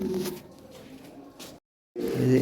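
Fancy pigeons at a breeder's loft cooing steadily, soft throaty calls close by that continue, stop for a brief silent moment, then resume.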